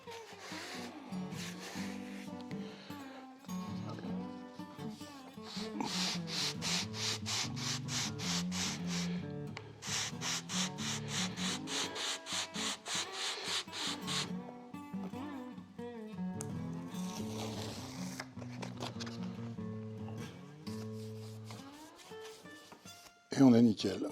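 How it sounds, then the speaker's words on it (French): A wooden curve sanded by hand with a piece of 180-grit sandpaper on a backing block, heard as rhythmic rasping strokes in repeated bursts. A person talks over much of it, and a short louder knock comes at the end. "Donc on va poncer cette partie-là."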